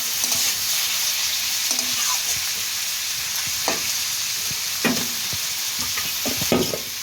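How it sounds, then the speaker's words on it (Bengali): Potatoes frying in oil for a rice dish, with a steady broadband sizzle throughout and intermittent scraping stirs of a spatula against the pan, close and fairly loud, no talking. "এবার সুন্দর করে নাড়াচাড়া করে লাল লাল করে ভেজে নেবো আলুটা।"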